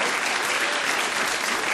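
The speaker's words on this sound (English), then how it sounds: "And I suppose a round of applause for the other fellows too." Steady studio audience applause on a 1977 television panel game show, a dense even wash of clapping throughout the short stretch.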